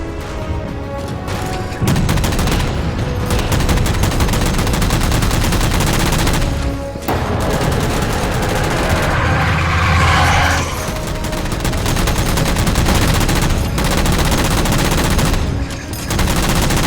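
Heavy, continuous gunfire in Halo 4 as jammers are shot down, loud automatic bursts running almost nonstop with only brief pauses between volleys.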